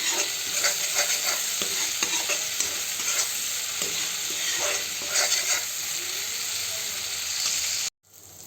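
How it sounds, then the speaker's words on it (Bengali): Ground spices for an egg masala curry fry in a pan with a steady close sizzle, broken by repeated scraping stirs of a spatula, before cutting off abruptly near the end. "গুঁড়া মশলাগুলো ভালো করে ভেজে নেব।"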